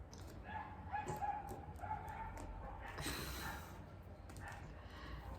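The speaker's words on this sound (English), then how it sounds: "There's dogs barking in the background." Dogs bark somewhere in the background, faint and distant, giving a few scattered yips and barks over a low room hiss.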